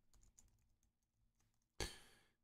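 Code being typed on a computer keyboard: a few soft, quiet key taps and then one louder sharp clack near the end, close and alone with no voices.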